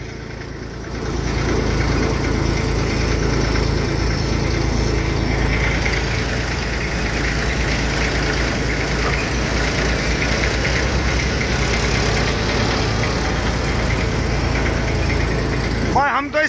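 A Massey 35 tractor idles steadily in the foreground with a Farmtrac tractor alongside, a continuous low engine rumble lasting throughout, with a faint click at the end.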